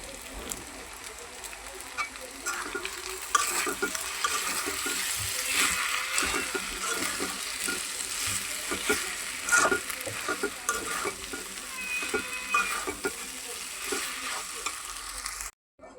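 Spices being stirred into noodles frying in a pan, a steady sizzle with intermittent scraping stir strokes, close and moderately quiet throughout.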